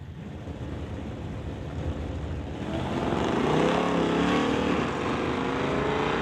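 A 1969 Acadian and a 1958 Oldsmobile drag race, engines building from a rumble to a loud rising roar as the cars accelerate down the strip, with no talk.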